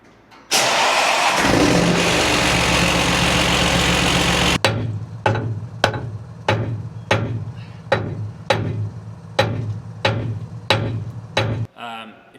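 A straight-piped tractor engine roars loudly at full rev for about four seconds, then drops into a steady idle with a string of sharp, evenly spaced exhaust pops and bursts close by.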